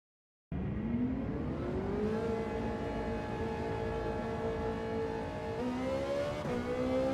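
A Ferrari 458 Italia GT3 '13 racing car in Gran Turismo 7 starts up into a loud, sustained engine drone that climbs steadily in pitch through the gears, with brief shift dips near the end.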